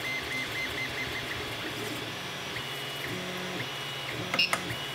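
A 3D printer runs mid-print with a steady mechanical hum and faint stepper-motor whine. A few small clicks come near the end, low and continuous, with no speech.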